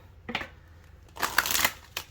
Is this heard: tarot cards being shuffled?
yes